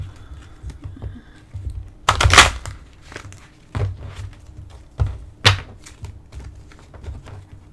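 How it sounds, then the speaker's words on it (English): A deck of oracle cards is shuffled by hand at close range, giving irregular papery riffles and soft taps in short bursts, with a few louder flicks between quieter rustling. "I shuffled the cards off camera, but I'll do it one more time on camera"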